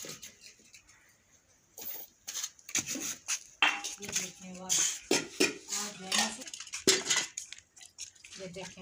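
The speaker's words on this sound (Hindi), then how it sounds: "ये कुछ बर्तन धो रहे हैं।" Dishes and metal pots clatter and clink while being washed in a village home, with irregular scraping and knocking, and people talking in the background.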